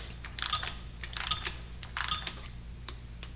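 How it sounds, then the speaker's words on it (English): A torque wrench ratchet is clicked through its teeth in a few quick bursts of crisp, close metallic clicking, separated by short pauses, with no talking. "I'm exercising the teeth in my torque wrench."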